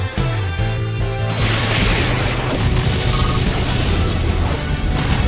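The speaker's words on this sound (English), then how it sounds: "Annihilated by explosion!" A loud crashing blast from an Explosion attack in the Pokémon Battle Revolution video game erupts and rolls on as a dense, roaring burst, sustained at high level for several seconds, with no talk.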